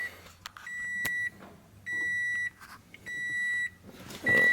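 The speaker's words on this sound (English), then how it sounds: "The door's going to beep at me, so I'll shut the door." A car's door-open warning chimes in a Subaru BRZ or Toyota 86: four clear, evenly spaced electronic beeps, each about half a second long, with quiet cabin sounds between them.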